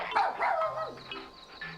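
A dog gives a couple of short, close yelping barks that trail into a whine, loud and alone with no talk over it.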